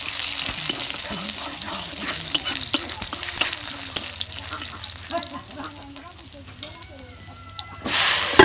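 Onions frying in hot oil in a pan for a shapla and puti fish dish, a close crackling sizzle with scraping stirs and clatter, joined by a voice partway through and a louder burst at the end.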